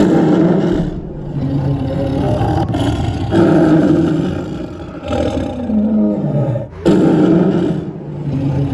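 A saber-tooth cat roars inside a cave, a long, loud, rumbling growl that surges and dips over several seconds with brief breaks, close and echoing.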